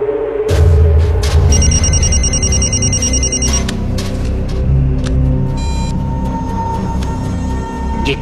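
A telephone rings at midnight in a Hindi-dubbed action film, a repeated electronic bell trill heard over a loud rumbling film soundtrack, with no one speaking.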